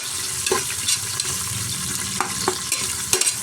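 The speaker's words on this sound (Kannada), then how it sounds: "ಈರುಳ್ಳಿ ಹಾಕ್ಕೊಂಡು ಒಮ್ಮೆ ಫ್ರೈ ಮಾಡ್ಕೊಳ್ಳೋಣ" Sliced onions fry in a pan with a constant crackling sizzle, while a spoon scrapes and knocks against the pan several times at uneven intervals, close up and with no voices.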